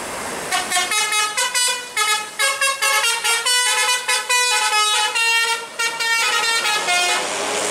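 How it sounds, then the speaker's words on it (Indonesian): A premium bus passes at night on a narrow, deserted mountain road, its horn sounding in a long run of repeated blasts that carry steadily throughout. "Ini ada bis lagi"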